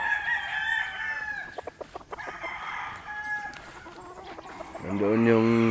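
Chickens and roosters on a farm cluck and squawk in a busy mix, ending with a loud nearby rooster crow. Scattered clicks and yard noise sit underneath.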